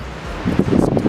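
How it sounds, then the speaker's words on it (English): Wind gusts against the microphone at a beach in Tofino with big waves, rising from a low rumble into louder buffeting bursts partway through. "it's really windy!"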